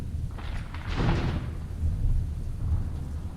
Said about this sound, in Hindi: और बाहर बारिश भी बहुत ज्यादा है।